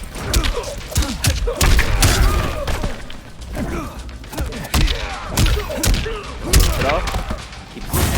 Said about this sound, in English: All goes with the gunshot.